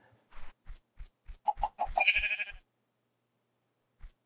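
A Minecraft sheep bleats in a short burst of a few wavering baa calls mid-clip, after a run of soft rhythmic footstep thumps, then a single faint thump near the end; no talking.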